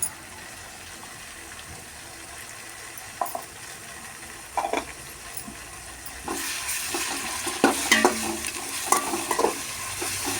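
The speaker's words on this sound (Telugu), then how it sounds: "కొంచెం ఆయిల్లో అల్లం వెల్లుల్లి పేస్ట్ని మగ్గనించాలి." Ginger garlic paste frying in oil over browned onions, a soft sizzle with occasional stirring clinks and scrapes that grow louder and busier in the second half, no voices.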